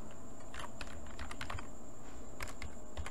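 Fingers type on a computer keyboard during a web development session, producing quick clusters of close clicky keystrokes separated by short pauses over a faint steady hum.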